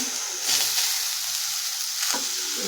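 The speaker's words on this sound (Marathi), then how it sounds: "टोमॅटो आपल्याला मेल्ट होईपर्यंत परतून घ्यायचं आहे" Finely chopped tomato sizzles loudly in a pan with grated coconut already roasted red, a bright continuous hiss with a brief surge where the tomato hits the hot fat. No one speaks.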